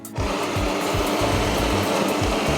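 A Jura E8 espresso machine grinds coffee beans, a steady loud mechanical whirring that starts abruptly and runs continuously without any voices.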